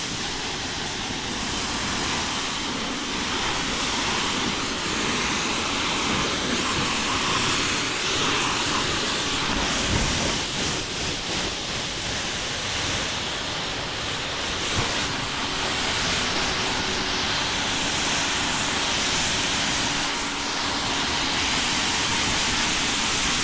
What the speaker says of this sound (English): So here we go for the pre-rinse of the vehicle.